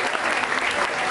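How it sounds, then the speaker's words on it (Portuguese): A crowd at a street rap battle semifinal claps loudly in a short, dense burst of applause. "palmas"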